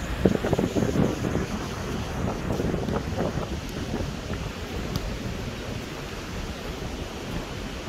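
A northeast wind gusts across Praia Central beach in Itapema, Santa Catarina, buffeting the microphone in rough bursts over a soft wash of surf, easing slightly toward the end.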